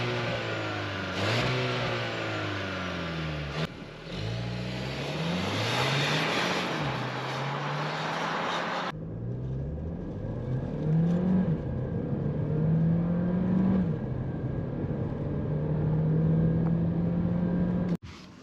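A 2022 Volkswagen Taigo R-Line with a 1.5 TSI 150 hp engine and DSG7 automatic gearbox drives through town, engine note climbing and dropping repeatedly through gear changes, with a steady wind and road hum heard from inside.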